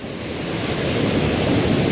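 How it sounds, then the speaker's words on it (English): Steady broadband roar of a waterfall's falling water and spray with blowing wind, loud and continuous with no voices, building slightly over two seconds. "The wind's hitting me in the face and I can feel spray."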